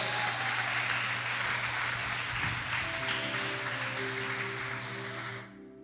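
A church congregation applauds during a Sunday service, a steady fairly faint wash of clapping over a sustained low musical drone that cuts off near the end.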